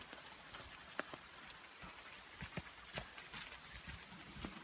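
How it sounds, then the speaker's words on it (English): Rain patters steadily on surfaces nearby on the Appalachian Trail in the morning, scattered drops tapping irregularly over a soft, continuous hiss. "It's raining this morning."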